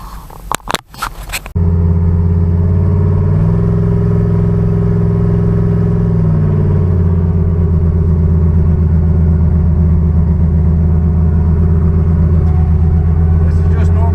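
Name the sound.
turbocharged Chevrolet Nova car engine running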